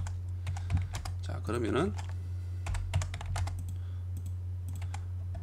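Keys clatter in short bursts on a computer keyboard while an AutoCAD command is entered and Enter is pressed, with someone speaking Korean over a steady low hum.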